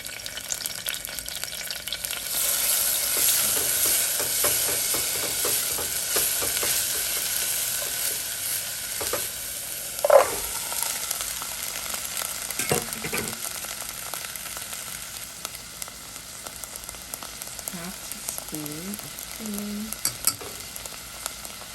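Olive oil sizzles steadily in a pan as a bay leaf goes in, with occasional scraping and stirring sounds and a few clinks against the pan.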